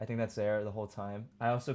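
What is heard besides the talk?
No distinct noise like a dog, phone or traffic.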